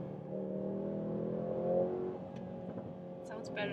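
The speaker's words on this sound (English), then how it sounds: "You even have the crackles and plops from the exhaust." Mercedes-AMG GLC 43 engine revving with a steady harmonic drone that swells and eases, then sharp exhaust crackles and pops near the end, with speech over it.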